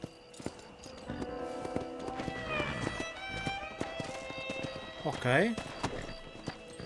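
Horse hooves from the video game Red Dead Redemption clip-clopping in a steady walking rhythm, close and fairly loud, with a brief whinny midway and game dialogue spoken over it.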